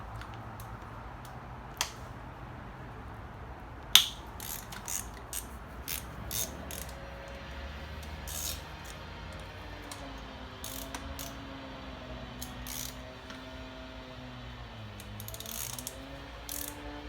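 A hand ratchet loosens nuts on a 2000–2005 Honda Civic engine during an oil leak repair, giving quiet, irregular clicking of the pawl in short bursts over a low, steady room hum.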